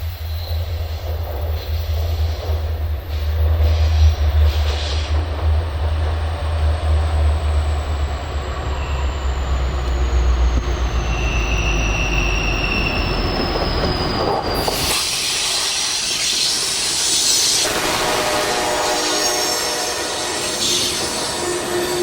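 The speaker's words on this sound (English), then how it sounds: "we caught a local with 2 rebuilt SD60Es in charge" A local freight train led by two rebuilt SD60E locomotives passes the west portal of Cook Springs Tunnel with a loud, close rumble of rolling cars and a long, high wheel squeal that slowly drops in pitch before fading into a broad wash of noise.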